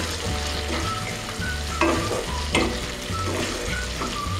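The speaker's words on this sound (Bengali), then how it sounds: "খুব ভালো করে নাড়াচাড়া করব 1-2 সেকেন্ডের জন্য, যাতে আদা রসুনের কাঁচা গন্ধটা চলে যাবে" Ginger garlic paste sizzles and fries in a pan for Bengali prawn curry, with scraping stir strokes over a steady crackle and two sharper clatters near the middle, close and fairly loud throughout.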